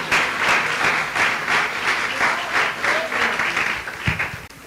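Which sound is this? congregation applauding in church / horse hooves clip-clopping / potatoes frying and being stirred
congregation applauding in church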